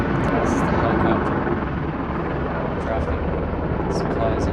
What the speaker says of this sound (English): This is the helicopter